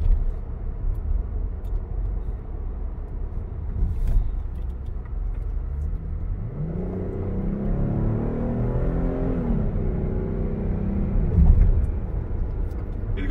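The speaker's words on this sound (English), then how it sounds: "It's like some no-name all-season tires, which they're quite noisy." Kia Carnival LS minivan, a 2023 model, rolling along on noisy no-name all-season tires, with a steady low road roar and engine hum that swells slightly partway through, no talk.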